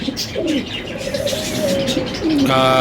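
Pet pigeons coo and chirp close by in a steady run of soft calls, with a brighter burst of tweeting near the end and no talk.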